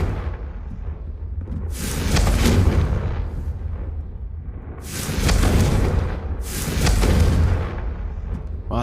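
Confringo fire spell blasts in Hogwarts Legacy: three loud, close booming bursts, each a broad crackling explosion lasting about a second, spaced a few seconds apart over a steady low rumble.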